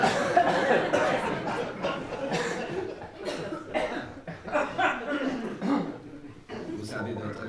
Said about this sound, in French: si vous avez envie de tousser, c'est le moment